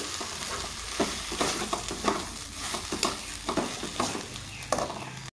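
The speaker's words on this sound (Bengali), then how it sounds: "5 মিনিটের মতো আমি ভেজে নেব ওটসটাকে। সুন্দর করে ভেজে নেব আমি।" Vegetables and oats frying together in a pan, a soft sizzle under regular scraping strokes of a spatula roughly every half second, fairly quiet and close, ending abruptly.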